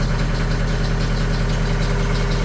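An engine idles steadily just after starting on a cold day, a continuous low, even rumble with a slight knocking pulse, close and loud, with no voices.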